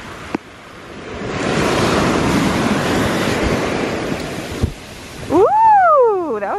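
Ocean waves wash in at a Hawaii beach, a loud, broad roar of surf that rises and swells for several seconds, with wind buffeting the microphone and a short whistling sound at the end.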